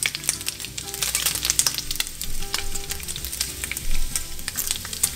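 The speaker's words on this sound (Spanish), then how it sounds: "freímos las salchichas, moviéndolas constantemente para que se doren parejo" Sausages fry in hot oil in a pan, a close, crackling sizzle broken by frequent sharp pops and the clatter of a utensil stirring them, with no talking.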